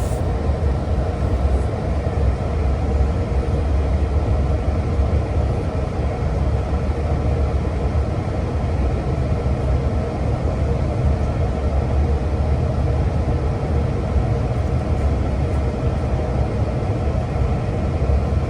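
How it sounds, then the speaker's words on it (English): A steady, heavy rumble of a passing Long Island Rail Road equipment train at Oakdale, continuous and loud throughout with no clear gaps or horn. "the train passing us here at Oakdale is an equipment train en route from Patchogue to Babylon"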